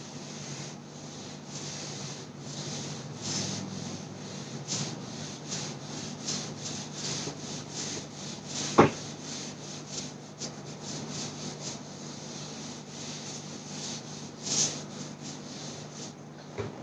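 Rubbing to erase a classroom board, a steady quiet scrubbing swish in repeated strokes that continues throughout, with one sharp knock partway through and no talking.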